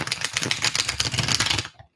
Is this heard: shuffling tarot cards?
yes